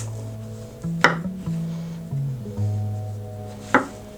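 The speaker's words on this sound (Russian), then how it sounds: "Режу одну большую луковицу на кубики, морковь на крупные кубики и грибы на четвертинки." A knife chops onion, carrot and mushrooms into cubes, giving two sharp knocks on the board a few seconds apart over a low steady hum.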